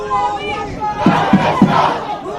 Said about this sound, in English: The crowd again involved as well.